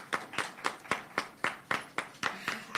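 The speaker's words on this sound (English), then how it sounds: "Please give them a round of applause." About ten evenly spaced hand claps ring out at a steady pace at an education committee press conference, crisp and close, more like a single person or a few people clapping than a full room.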